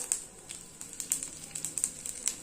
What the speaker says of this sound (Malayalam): ഈ കടുകൊക്കെ പൊട്ടി തുടങ്ങിയിട്ടുണ്ട്